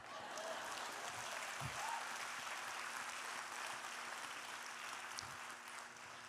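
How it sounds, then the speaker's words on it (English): Audience applause after a storyteller finishes a story about spirituals, a dense, even wash of clapping from a crowd in a hall, steady and fairly distant throughout. "You can applaud now."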